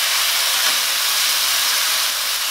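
Chicken goes into cooked spice paste for arem-arem filling and sizzles loudly, a dense, steady, close hiss that fills the whole moment without pause or voices.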